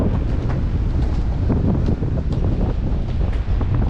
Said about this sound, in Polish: a jest podobno 80 km na godzinę wiatr